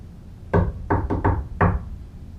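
Knocking in a shave-and-a-haircut rhythm inside an old theatre, five sharp raps (one, two-three, four, pause, five) that sound close and loud against a quiet room.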